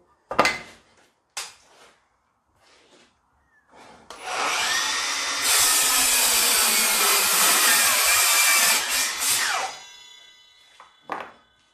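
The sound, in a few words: Milwaukee Fuel battery mitre saw cutting dense hardwood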